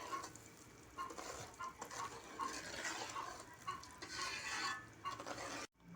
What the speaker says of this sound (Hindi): इसको हम भून लेंगे अच्छी तरह।